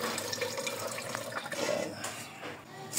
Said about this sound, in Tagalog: Ito na yung hugas bigas natin. Kuha tayo. Unang hugas to.